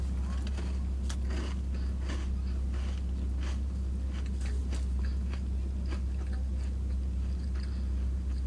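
Repeated crisp, crunchy bites and chewing of a crispy fast-food chocolate chip cookie close to the mic, irregular crackles over a steady low background hum.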